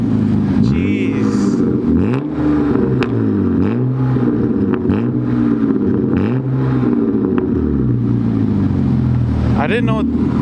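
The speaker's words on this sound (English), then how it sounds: "I didn't know my car was this loud." A 1999 BMW E36 328i convertible engine revs loudly over and over, its pitch rising and falling in repeated swoops, close and dominant, with a brief voice near the end.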